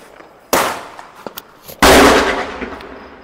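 Diwali firecrackers going off at a house decorated for the 2023 festival: two loud, sharp bangs about a second apart, the second with a longer crackling, hissing tail, and a few small pops between them.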